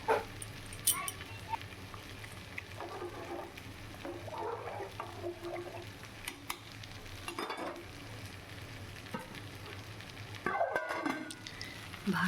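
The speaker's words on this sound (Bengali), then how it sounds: "ভাত এদিকে হচ্ছে, এদিকে মাংসটাও কষানো হচ্ছে, দুদিকেই চলছে কাজ।" Mutton browning in a pan, braised with steady sizzling and stirring while rice boils alongside for fried rice, with a continuous close crackle and occasional scraping, louder near the end.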